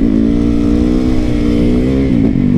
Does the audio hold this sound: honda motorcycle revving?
yes